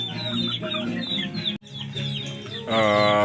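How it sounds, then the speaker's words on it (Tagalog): Pet Shamo chickens clucking and calling in a backyard at feeding time, a steady close chorus of overlapping clucks, with one bird rising into a loud, drawn-out crow near the end. "Ito mga tol, ito mga kamanok."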